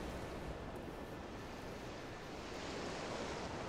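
Ocean waves at the seaside in Final Fantasy XIV, a steady broad wash of surf with wind-like hiss, quiet and unbroken throughout, with no voices.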